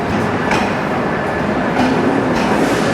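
Rupshi Bangla Express train standing at platform 8 of a suburban station, bound for Narayanganj, giving a steady, loud rail rumble with faint clatter throughout and no voices.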